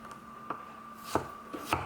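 A forged chef's knife with a convex-concave grind chops a wet cucumber on a board, giving four quiet, sharp knocks at uneven intervals with faint rubbing between them.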